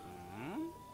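A cow in the Zelda Breath of the Wild video game lets out one short, close moo that rises and then falls, over a faint background tone.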